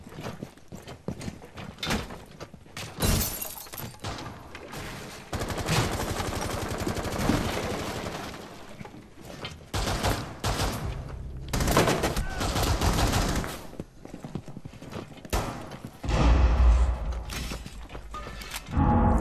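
Gunfire in the tactical shooter game Rainbow Six Siege, with dense, loud bursts of shots and rapid volleys repeating close by throughout, with short gaps between them.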